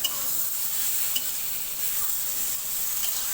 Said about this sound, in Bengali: তো আমার পটল ভাজাটা প্রায় কমপ্লিট হয়ে গেছে